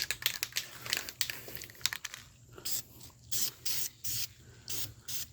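Spray paint hissing onto a 1966 Chevrolet C10 truck body in a series of short bursts, each about half a second long, separated by brief pauses. Crinkling and rustling fill the opening seconds before the bursts begin.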